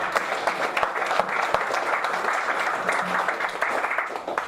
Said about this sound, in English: give a round of applause to the BSG team